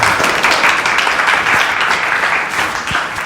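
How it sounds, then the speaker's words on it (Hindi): A church congregation claps together in honour of Jesus Christ, steady dense applause filling the room at full volume and tapering slightly toward the end. "यीशु मसीह के लिए हम एक ताली बजाएंगे।"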